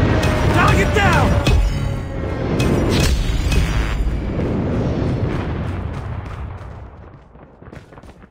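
Airstrike explosions in the mobile shooter Call of Duty Mobile during a hardpoint match, a loud booming eruption that rolls on and slowly fades over several seconds, with game voices calling out over it.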